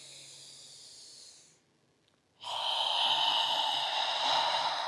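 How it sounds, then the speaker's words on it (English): Deep yoga breathing during an ujjayi breath practice: a long, airy exhale, then a short silent pause and a louder, sustained hissing inhale, close and clear with no talking. "Deep breath in, feel everything expand."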